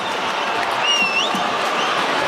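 An AFL football crowd at a Western Bulldogs versus Melbourne match claps and cheers after a Bulldogs goal, a broad sustained wash of applause with a few piercing whistles rising above it.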